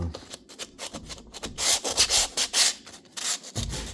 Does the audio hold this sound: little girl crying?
no